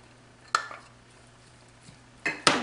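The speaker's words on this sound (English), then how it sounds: "I'm just gonna mix this together really well." Lemon juice and cilantro stirred together in a pan, with a few sharp scrapes and clinks of a utensil against the metal, spaced apart over a quiet background hum.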